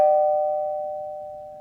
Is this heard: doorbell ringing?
yes